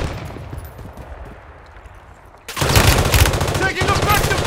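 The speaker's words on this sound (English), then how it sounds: "Taking effective fire!" Automatic gunfire in Call of Duty Warzone on PC, starting after a quieter stretch and then bursting into loud, rapid, continuous rattling volleys that dominate to the end.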